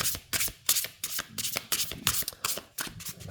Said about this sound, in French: Écoute, elles se mélangent très très bien.